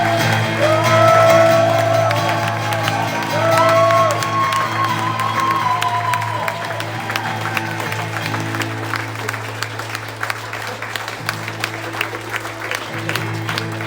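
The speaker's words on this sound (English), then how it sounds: "applause for Norm McDonald" Audience applause with cheering and whoops rises loudly from a theater crowd at a Portland stand-up comedy show, honoring the late Norm McDonald, then thins into scattered claps and shouts over a steady background.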